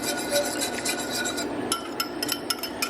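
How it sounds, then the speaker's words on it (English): Whisk scraping steadily around a pan as a soy sauce and tahini mixture is stirred in, a continuous close rasping with brighter clinks toward the end. "we're just going to whisk it right into our pan right here"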